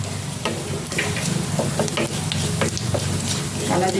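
Whole cumin and black cumin seeds fry in hot oil with a steady close sizzle, broken by light crackles and stirring clicks that come and go at random.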